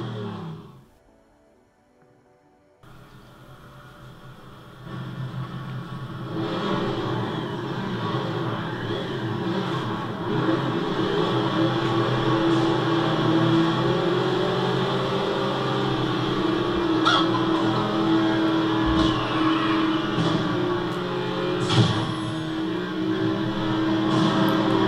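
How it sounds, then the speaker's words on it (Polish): Steady synthetic engine drone of racing cars in a video game played on a Nokia Streaming Box 8000, a continuous buzzing roar that rises after a brief quiet start and holds loud throughout. "wyścigi samochodowe, mamy różne tryby rozgrywki."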